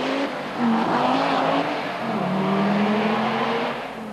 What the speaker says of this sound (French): une vraie quattro soufflant 320 chevaux